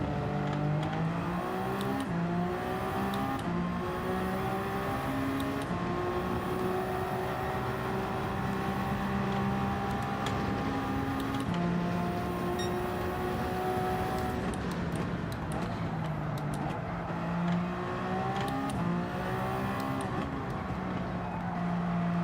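A GT3 race car engine in Gran Turismo 7 drones loud and continuous, its pitch climbing through the gears and dropping at each shift and on braking, with other cars faintly audible around it and no talk.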